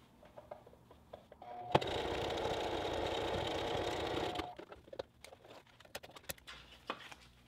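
A sewing machine stitches a neck seal for a Mandalorian Mercs costume in one steady, moderately loud whirring run of about three seconds, framed by quieter handling clicks and fabric rustles.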